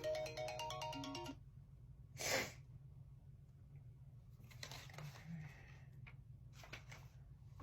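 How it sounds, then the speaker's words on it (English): A phone notification chime plays a quick rising run of bright electronic tones at the start, then quiet room ambience follows with a brief breathy burst and soft rustling. "Notification goes on."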